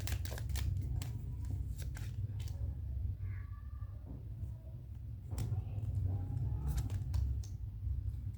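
Tarot cards are shuffled by hand in a quiet room, soft riffling and sharp papery flicks coming in short irregular bursts over about eight seconds, faint and close, with no voice.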